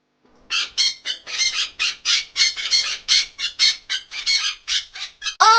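A parrot squawks in a rapid run of harsh, piercing calls, about twenty closely spaced bursts, loud and close with no other sounds around them.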